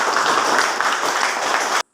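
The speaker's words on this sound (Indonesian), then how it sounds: "mari kita tepuk tangan untuk kebersamaan." A high school civics class claps together in a classroom, giving a dense, even burst of many hands that carries on steadily, then stops abruptly.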